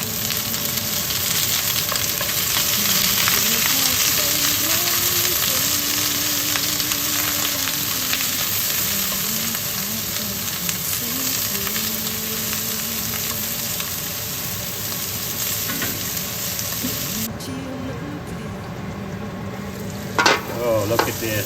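Butter sizzles in a hot pan as prime rib cooks, a steady bright frying hiss running continuously with occasional stirring scrapes, close and fairly loud, no talking.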